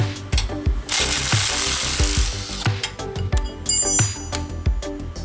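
A large wrench works on a grease fitting on the rubber track of a compact tracked spider lift, giving loud close ratcheting clicks and metallic knocks with bursts of harsh mechanical grinding, and no talking.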